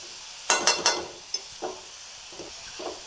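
Salted cabbage stirred in a pan as its released water cooks off: a few sharp scraping strokes up close, then softer intermittent stirs over a low steady sizzle.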